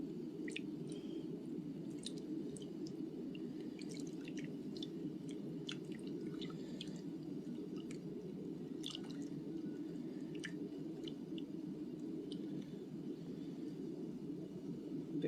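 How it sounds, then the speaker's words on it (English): Batter is gently poured over baked apples in a home kitchen, giving a soft, continuous wet squish and glug with faint drips and small clicks throughout, close and steady. "So this mixture now, we just gently pour it all over all those apples."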